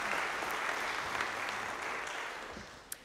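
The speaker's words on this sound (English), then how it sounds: "let's give a round of applause." A congregation claps steadily during an in-person service, a moderate wash of applause that gradually fades, with a single sharp knock near the end.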